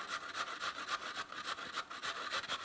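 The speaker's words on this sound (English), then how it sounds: "And what you want to do is just grate it like that." Potato rubbed against a multi-sided kitchen grater, a rhythmic series of about a dozen quick rasping strokes, close and fairly quiet with no talk.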